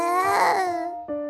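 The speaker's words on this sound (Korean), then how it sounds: "당장이라도 꺼질 듯한 가냘픈 울음소리." A newborn baby cries in a thin, wavering wail that swells and fades, then breaks into a short second cry, with no one talking.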